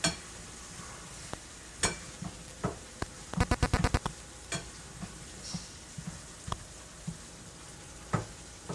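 Tomato paste and cream cook down in a hot pan with a soft, continuous sizzle, broken by scattered spoon scrapes and clinks and a quick burst of rapid tapping midway, with no voices.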